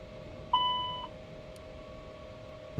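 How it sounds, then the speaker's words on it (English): A single clear electronic beep sounds from the cockpit of an Airbus A220 in Microsoft Flight Simulator 2024 as the aircraft powers up, a bright tone that fades over a steady low hum. "nice to hear that beep."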